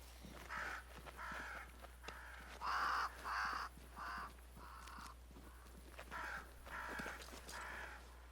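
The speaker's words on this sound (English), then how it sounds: "Crows." Crows caw in the game Banishers: Ghosts of New Eden, in repeated harsh calls that come in bunches of two or three, moderately near over a quiet outdoor background with faint footsteps.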